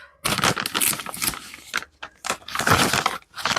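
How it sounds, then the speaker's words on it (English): Crinkly plastic rustling and crackling come in bursts up close, like a wipe being tugged from a soft packet, with short pauses between. "Sorry about the noise there, getting a baby wipe."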